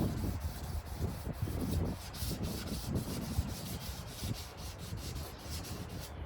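Sandpaper is rubbed by hand over the car body of a 1981 Foxbody, giving a steady, close, scratchy back-and-forth swish in uneven strokes.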